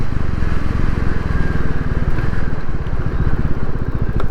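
A Royal Enfield Classic 350 single-cylinder motorcycle engine thumps steadily and close, a loud rhythmic pulse throughout with no talk.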